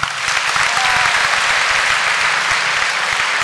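An audience at a Q&A session claps in sustained, dense applause, loud and continuous from start to end, with no distinct voices over it.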